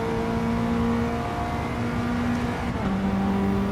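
A Mitsubishi Lancer Evo III GSR racing car engine in Gran Turismo 7 roars steadily at high revs, with pitch shifting as gears change, loud and continuous with no talking.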